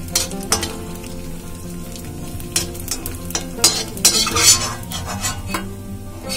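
Raisins frying in ghee on a low flame, crackling and sizzling close by while a spoon stirs and taps against the pan in a few sharp clinks.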